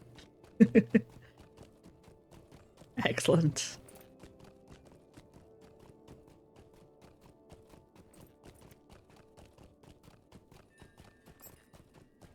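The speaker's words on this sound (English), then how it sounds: "we're properly riding a horse this time" Rapid clip-clopping horse hooves from a video game, Lord of the Rings Online, run steadily throughout, with a couple of louder bursts near the start and a brief spoken word.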